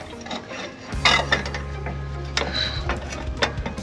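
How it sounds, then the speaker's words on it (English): Phillips screws are backed out of the aluminum headlight frame on a 1983 Chevy G20 van, with close metallic clicks, ratcheting rattles and a steady low motor-like drone through the middle. "just unscrew these. There's 4 Phillips that hold that frame in."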